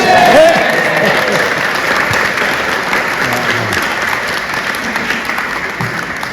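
A crowd at a Town Mayor's parade and civic service cheers and applauds for Simon, dense, loud clapping that starts strong and holds steady, with a brief whistle-like cry near the start.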